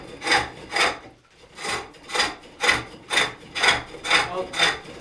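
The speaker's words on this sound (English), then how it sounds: "People want to know what you're using for sharpening and what grit and all that." A woodworking tool being sharpened with steady back-and-forth rasping strokes, about ten regular passes close to the microphone, with a short pause after the first two.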